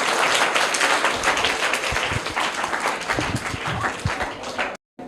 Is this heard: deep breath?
no